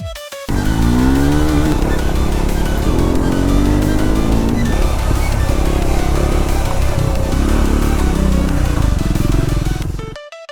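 Triumph Scrambler 400X motorcycle accelerating hard, a loud close engine whose pitch climbs through repeated gear sweeps for about ten seconds, roaring alone with no talking before cutting off.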